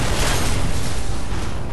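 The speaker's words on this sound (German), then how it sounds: "Schöne Explosion." A loud, sustained rumbling explosion in the video game Duke Nukem Forever fills the whole clip, dense and roaring with constant low booming and no pauses.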